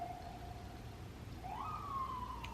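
A police car siren wails faintly in the distance, a thin tone holding, then sweeping up and settling over a low steady background rumble.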